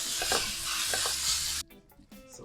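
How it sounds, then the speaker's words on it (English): Minced meat frying in preheated oil, with loud steady sizzling close by and a few stirring scrapes, then the sizzle drops off sharply, leaving quieter crackles and clinks. "So I'm just gonna let this fry, as I said before, for a few minutes"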